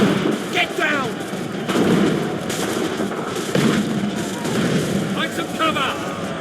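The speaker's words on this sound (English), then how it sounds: "They're firing! They're firing!" Artillery and gunfire in the Assassin's Creed 3 video game, with dense, continuous battle noise of blasts and shots over a steady din, while voices shout throughout.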